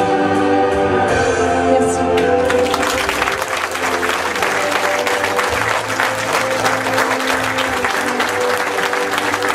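Audience applause rises after a song at a concert for a singer, starting as the music's last sustained notes fade and swelling into loud, dense, steady clapping that fills the hall.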